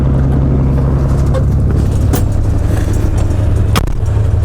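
A narrow-gauge diesel locomotive hauling for peat starts to roll, its deep engine rumble loud and steady up close, with a couple of sharp metallic clanks.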